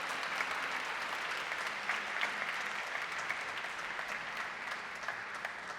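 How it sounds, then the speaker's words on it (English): A church congregation claps in a sustained, even round of applause, soft and somewhat distant, continuing steadily without voices. "let's give them a round of applause"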